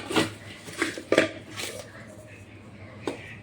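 A homemade mango cake being turned out of its pan into a bowl, producing several close clinks and knocks of dishware in irregular bursts, with a fainter clatter toward the end.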